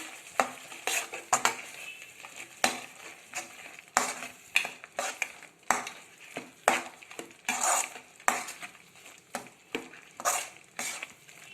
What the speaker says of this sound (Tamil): எல்லாத்தையும் நல்லா வதக்கிக்கலாம்.